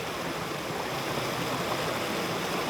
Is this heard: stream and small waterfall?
yes